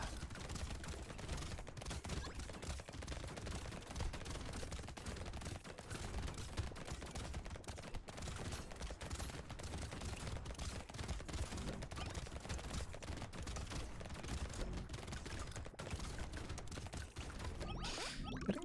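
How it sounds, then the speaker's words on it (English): Rapid, relentless machine gun fire in the Brotato video game: a dense, continuous stream of fast shots at steady volume mixed with other game effects. "The machine guns."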